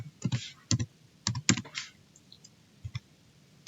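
A terminal command is typed on a computer keyboard in short bursts of crisp key clicks with pauses between them, close and moderately loud, with a faint voice underneath.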